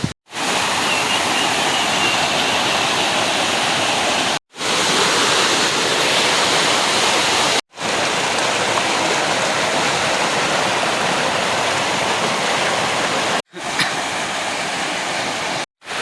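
A village waterfall swollen after heavy rain gives off a steady, loud rushing roar that fills the whole clip. The roar cuts out briefly in a few spots, and no voices are heard.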